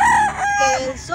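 A Kelso rooster crows once, loud and close, a strained rising-then-falling call at a gamefowl market, with a brief cluck at the end.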